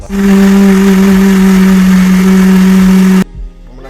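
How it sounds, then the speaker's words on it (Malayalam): A kitchen mixie runs loudly with a strong steady motor hum, blending a Dark Fantasy biscuit milkshake for about three seconds before stopping abruptly, leaving a brief rattle. "ഇനി ഇതിനെ മിക്സിയിലിട്ട് നല്ലവണ്ണം അടിച്ചെടുക്കണം"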